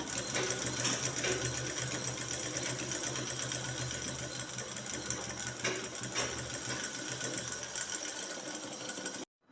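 A sewing machine stitches along a shirt collar with a steady, fast mechanical whir and rapid needle clatter, close and continuous, then stops abruptly at the end.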